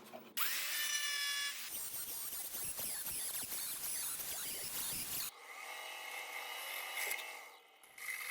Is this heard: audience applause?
no